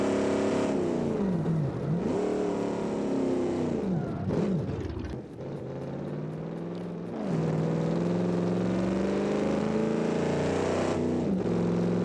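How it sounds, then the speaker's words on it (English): Truck engine revving with turbo boost in the BeamNG.drive video game, a loud sustained roar that climbs and sags in pitch through several rev sweeps, with a short dip in the middle. "The engine runs a lot better, as you guys can see. It is not stalling every couple seconds. Boost kicks in immediately"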